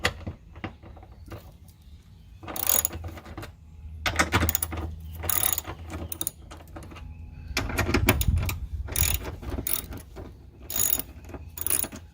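A ratchet with a 10mm socket works the bolts on a windshield wiper motor, giving repeated bursts of fast, close clicking between short pauses and metallic handling noises, with no talking.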